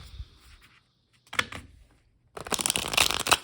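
Kem plastic playing cards are riffled in a couple of quick bursts, then a longer, crisp shuffle runs through to the end.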